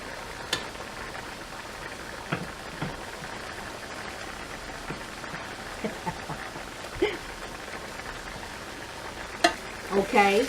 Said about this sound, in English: Watch that rice boil. We boil it hard.